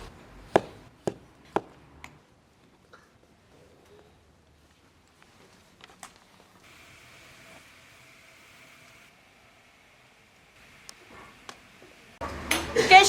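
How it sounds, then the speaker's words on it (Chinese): A knife chops rolled pumpkin dough into even pieces on a board, with a quick run of three or four sharp taps near the start, a few scattered knocks later and a louder kitchen clatter at the end. "切成大小均匀的剂子"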